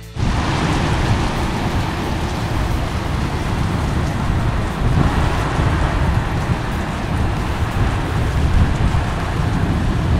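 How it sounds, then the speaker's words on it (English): Heavy rainstorm with rumbling thunder, a loud, dense downpour that stays steady and unbroken from start to finish. "Rain, thunder."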